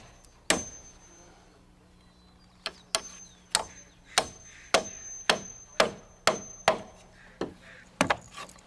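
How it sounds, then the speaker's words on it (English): A carpenter hammers nails to fix a block snug against a rafter, toenailing into the plate and nailing the lap: one sharp wooden strike, a pause, then a steady run of about ten close, loud blows. "The block is placed, snug up the rafter, toenail into the plate, nail off the block, and nail the lap."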